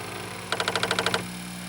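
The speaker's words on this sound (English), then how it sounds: "sound of the Apple IIe starting up" Apple IIe computer powering on, giving a quick run of about nine evenly spaced mechanical chattering clicks over a steady electrical hum, close and alone.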